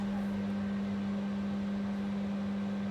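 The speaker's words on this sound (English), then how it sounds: "I'm going to defrost in the microwave." Steady low electrical hum of a microwave oven running while defrosting chicken, constant and unchanging, with no voices.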